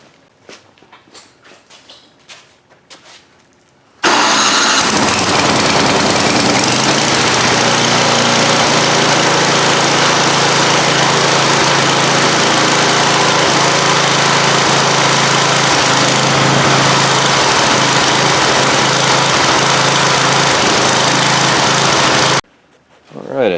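A snowblower engine, started with a plug-in electric starter, catches after a few quiet knocks and then roars loud and steady for nearly twenty seconds before it cuts off abruptly.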